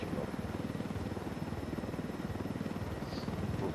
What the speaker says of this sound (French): Les hélicoptères de l'unidad sont quasiment tous équipés de lance-missiles.